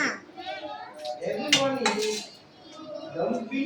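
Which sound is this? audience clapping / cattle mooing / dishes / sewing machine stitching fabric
dishes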